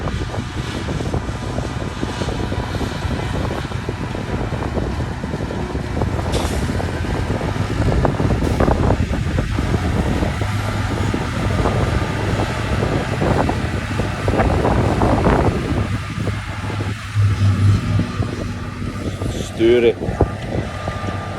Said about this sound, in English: Now I'm going back to the rake on the TM140